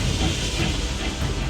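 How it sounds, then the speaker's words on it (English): A steam-powered tank machine in the Octopath Traveler 2 game gives off a dense, continuous roaring hiss of venting steam with a low mechanical rumble beneath, loud and unbroken throughout. "Behold, the pinnacle of the Rock Company's technological wizardry. Steam Tank Obsidian!"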